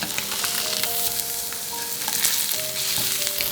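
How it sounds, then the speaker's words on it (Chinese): Moonfish (opah) pieces seasoned with sea salt and cracked black pepper sizzle steadily in hot oil in a pan, a close, continuous frying hiss with small crackles and pops throughout. "鱼给它下锅煎一下"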